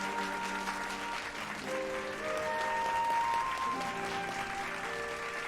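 Game-character applause from Final Fantasy XIV rolls on as a continuous crowd of claps, moderately loud, under bright sustained musical tones.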